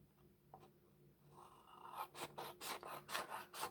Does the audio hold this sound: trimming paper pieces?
yes